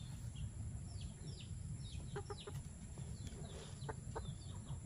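Chickens cluck and call softly at a distance while being fed grain on a farm, with scattered short calls over a constant low rumble of outdoor noise; no speech.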